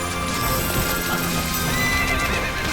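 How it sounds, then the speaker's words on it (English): Horse in the video game Final Fantasy XIV, a loud whinny over clip-clopping hooves, dense and continuous throughout with no talk. "Oh, I don't want to hurt the horsey."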